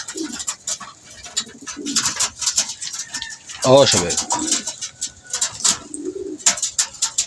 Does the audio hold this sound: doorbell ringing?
no